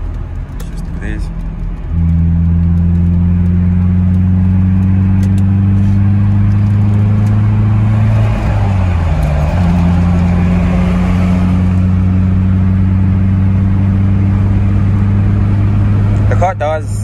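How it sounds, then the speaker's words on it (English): A BMW E30 with a modified exhaust drones steadily while driving, a loud, constant low hum from inside the cabin with a brief dip in pitch midway, while someone talks over it. "The car does sound nice, but there is that bit of drone"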